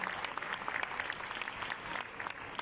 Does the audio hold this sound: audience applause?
yes